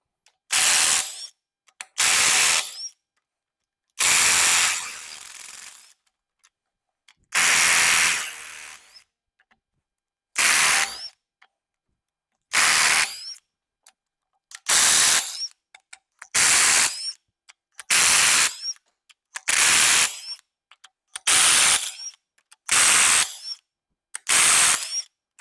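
A power tool rattles in a run of about a dozen short loud bursts with brief pauses between, loosening cylinder head bolts on a junkyard 7.3L engine, close up and with no talk.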